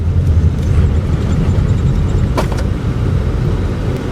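A boat-shaped election campaign vehicle arrives in a village ward on polling day, its engine a steady, loud low rumble that fills the whole clip with no one talking over it.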